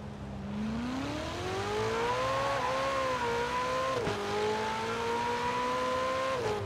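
Ferrari Portofino engine in Forza Horizon 4: a sustained, steady engine drone that rises in pitch as it accelerates, with a brief shift dip partway through, loud and continuous with no talking.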